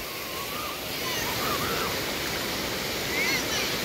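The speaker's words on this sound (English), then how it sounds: "So I'm on the beach right now." Ocean surf rolls onto the beach at Ocean City, New Jersey, a broad, continuous wash of waves swelling slightly in loudness, with no other distinct sounds on top.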